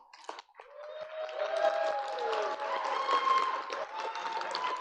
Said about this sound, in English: I'd like to request that you please rise and give Miss Alicia Palmquist a big applause